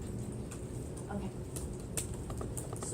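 Typing on a computer keyboard, a run of quick irregular key clicks spread across the whole stretch, fairly close, with a voice speaking now and then.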